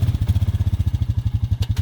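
A Honda quad ATV engine labours up a steep hill in third gear, a close, pulsing mid-pitched chug running steadily throughout.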